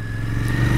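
A Royal Enfield Continental GT 650 motorcycle accelerates, its steady mid-pitched engine drone rising and growing louder over a fraction of a second, close and continuous.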